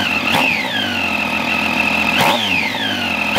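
2013 Triumph Street Triple R motorcycle, still breaking in and warmed up after a ride, revved twice in quick sharp blips that rise and fall back to a steady idle, loud and close with no talk.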